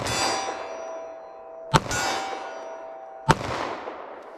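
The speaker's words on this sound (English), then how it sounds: "Let's see how this 45 does in my Glock here." Two sharp, loud shots from a Glock pistol firing .45 ACP rounds at a 25-yard range, spaced about a second and a half apart, each followed by a ringing, decaying echo.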